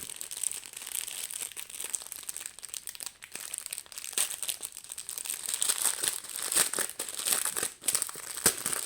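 Plastic bags of diamond painting diamonds opened by hand, giving continuous close crinkling and rustling of thin plastic with small tearing sounds, fairly quiet and without talk.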